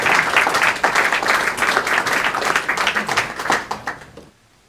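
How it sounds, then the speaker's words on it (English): A room of people at an annual public-access TV meeting claps for the board president, bright, brisk applause that holds steady and then quickly tapers off into quiet at the end. "Another round of applause for my board president."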